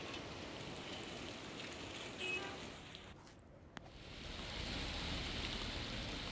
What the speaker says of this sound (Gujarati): વ્યારા શહેરની સિવિલ હોસ્પિટલ નજીક ઝાપટા પડતા વાતાવરણમાં ઠંડક પ્રસરી હતી